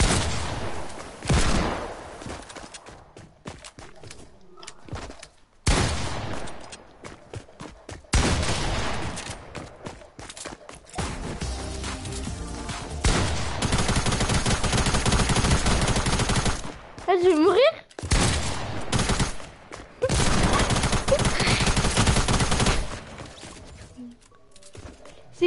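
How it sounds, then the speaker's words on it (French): Bursts of rapid video game gunfire rattle in and out over about twenty-five seconds, with short pauses between volleys and faint voices now and then. "Je vois tes coups de feu."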